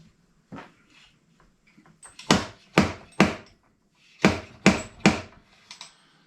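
A slide hammer pulls the transmission pump on a big-block Mopar 727, giving sharp metallic knocks in two bursts of about three, close up with a quiet workshop background.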